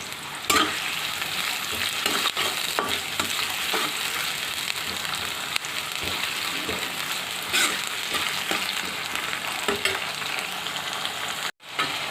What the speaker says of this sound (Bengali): প্যানে দিয়ে দিয়েছি কিছু কাঁচামরিচ, পেঁয়াজ কুচি, আর দিয়ে দিলাম স্বাদ মতো লবণ